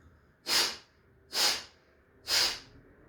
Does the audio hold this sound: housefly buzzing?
no